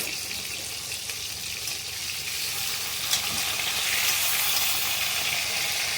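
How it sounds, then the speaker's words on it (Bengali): Thin rui fish fries in very hot oil, a continuous close sizzle and spatter with a brief louder burst midway, steady throughout and without voices. "মাছটাকে লাল করে ভেজে নিয়ে ফিরে আসছি"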